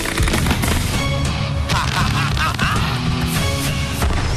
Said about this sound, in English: One explosion at a time.